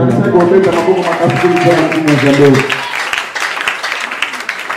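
A crowd claps and cheers as a voice talks over it at first, then the applause carries on alone, scattered and fading slightly.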